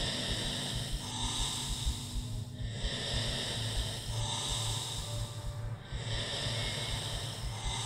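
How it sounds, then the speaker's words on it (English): Heavy, anxious breathing from a video game comes in slow, rhythmic cycles of harsh inhales and exhales, steady and fairly close, with no talk. "Got that breathing."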